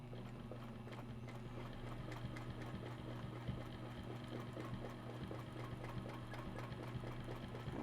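A sewing machine stitches fabric around a ruler, a steady close mechanical hum with rapid even needle clatter running continuously throughout.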